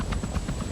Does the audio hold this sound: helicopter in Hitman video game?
yes